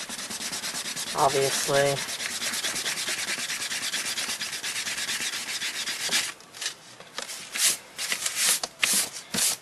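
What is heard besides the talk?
clay eraser rubbing out pencil marks on paper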